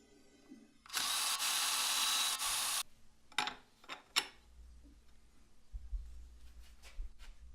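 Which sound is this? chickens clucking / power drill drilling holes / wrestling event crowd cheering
power drill drilling holes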